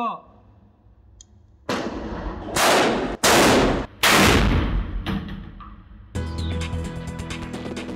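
Shotgun blasts fired at an improvised explosive device by a Korean navy UDT/SEAL team, several sharp loud reports in quick succession after a quiet start, followed by rattling debris and clatter.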